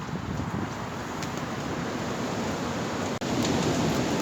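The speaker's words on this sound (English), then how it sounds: "this wind is really gusting through camp at times." Storm Eunice wind roars steadily through a woodland camp in a broad rushing wash, close and loud, with a brief dip near the end before the gust returns.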